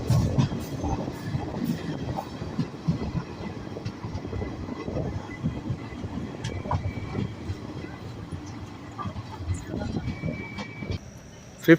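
Aboard the Chemmozhi Express, a passenger train running from Mannargudi to Coimbatore, there is a steady rumble of rolling wagons with clickety-clack beats from the wheels on the rails. A few brief squeals occur, and a voice speaks intermittently beneath the noise.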